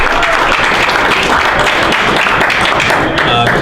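An audience at a Startup Grind Milwaukee evening event applauds to welcome a speaker: loud, dense, continuous clapping from a crowd fills the whole moment, with voices mixed in underneath.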